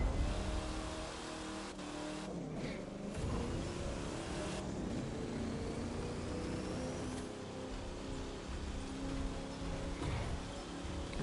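A Judge off-road car with off-road tires launches in The Crew 2, its engine revving hard and building in a steady, sustained roar with shifting pitch over several seconds, no voices present.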